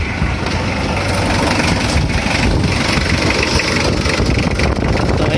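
A car engine idles steadily after a cold start, following timing belt, balancer belt, oil seal, tensioner bearing and valve cover gasket work, a loud, continuous low rumble close by with no talk.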